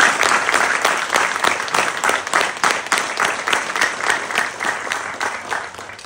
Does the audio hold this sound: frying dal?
no